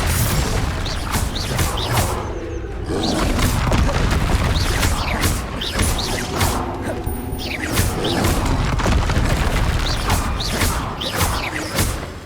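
Repeated Confringo spell explosions during Hogwarts Legacy combat, heavy booms and crashing impacts with whooshes, recurring every second or so against a constant loud background of battle noise.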